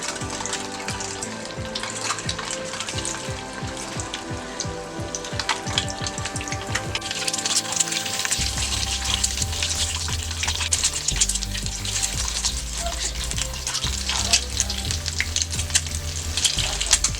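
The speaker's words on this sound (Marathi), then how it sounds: "1 चमचा तेल तापलेला आहे, त्यात अंडी घालूया। अंड्याने थोडा फ्राय करून घ्यायचं आहे।" Eggs frying in a spoonful of hot oil for anda masala fry, giving a loud, continuous dense sizzle and crackle throughout, with no voices over it.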